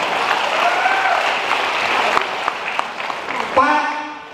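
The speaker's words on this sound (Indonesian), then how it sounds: "tepuk tangan buat bodoh amat ya" Audience applause at an Indonesian sales motivation seminar, a dense wash of clapping that carries on steadily and tapers near the end, with a voice speaking over it toward the close.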